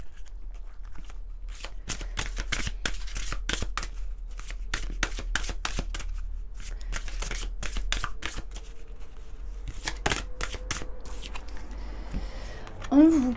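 Unicorn oracle cards being shuffled by hand, a long run of crisp riffling bursts repeating in quick rhythm, close and fairly quiet, with a brief voice at the very end.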